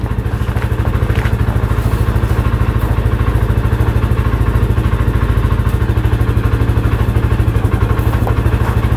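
A cheap UTV engine idles in the cold after a long trailer ride. It makes a loud, steady, close-up chugging putter with an even rapid pulse and light clatter, and it carries on unchanged throughout.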